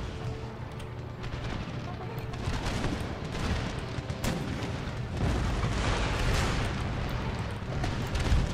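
Repeated booming cannon fire in the video game Empire: Total War echoes over a dense battle din, heavy blasts rolling one after another without pause.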